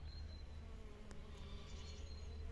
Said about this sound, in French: Et les abeilles se dépêchent aussi, car elles savent que l'hiver arrive bientôt